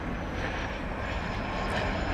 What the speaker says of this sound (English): That's the plane I wanted to show you. We have a 787 on taxiway Echo.